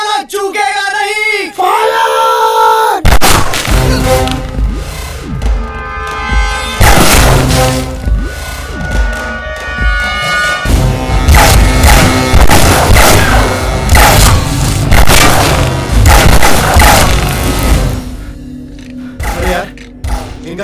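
Rapid gunfire and booming explosions from a battle scene in a Hindi war comedy film, loud and dense throughout with music and shouting mixed in.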